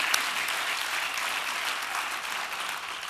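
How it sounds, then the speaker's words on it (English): Big round of applause from a comedy show audience, dense and steady throughout, filling the room at close range with no pauses. "I think this has been a really big round of applause"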